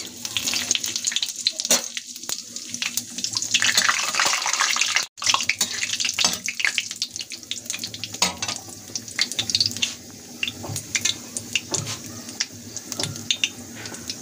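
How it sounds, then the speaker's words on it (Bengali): Steady, hissing sizzle of bay leaf, cinnamon, cumin and cardamom frying in hot oil, with crackles and pops throughout and a brief drop partway through. "গরম তেলের মধ্যে আমি এখন ফোড়ন দিয়ে দিচ্ছি তেজপাতা, দারচিনি, জিরে, 2টো এলাচ।"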